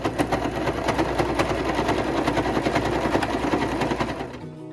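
Sewing machine stitching along the hem seam of a sweater cuff, a steady, loud, rapid mechanical whir with a fast even rhythm that runs nearly the whole time before slowing and stopping at the end.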